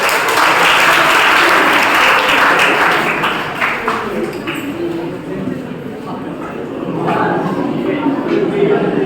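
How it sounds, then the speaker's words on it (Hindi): A college audience of students and professors at a personality development session claps together, loud and dense at first, thinning in the middle and swelling again toward the end, with some voices mixed in. "ताली बजाओ एक बार"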